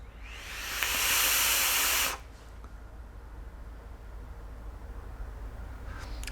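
A single-coil Wotofo Elder Dragon RDA gives a loud airy hiss during a draw lasting about two seconds, then stops abruptly, leaving only a quiet background.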